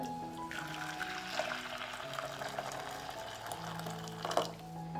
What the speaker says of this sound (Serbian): Preliću sa litar proključale vode.